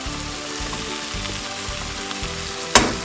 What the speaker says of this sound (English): Time to add all these dry spices.